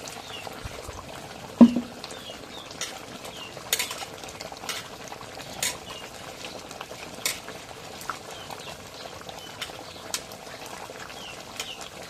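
A spoon stirs duck curry with potatoes in a pot, giving a sharp clink near the start, then sparse soft scrapes and light taps over a quiet background.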